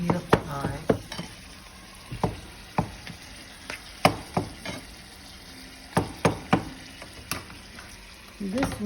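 Ground beef hamburger meat browns in a pan on a stove turned up to high, sizzling steadily while a spatula stirs and scrapes it in repeated sharp strokes.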